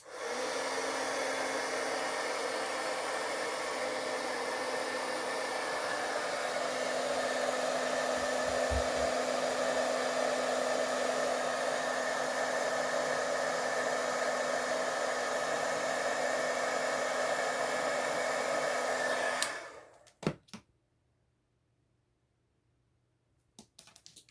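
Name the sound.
embossing heat tool blowing hot air on embossing powder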